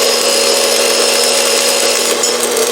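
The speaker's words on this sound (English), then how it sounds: "That's how you weld a bead." Arc welding a bead along a crack in metal, a steady close, loud crackling hiss that runs unbroken with no talking.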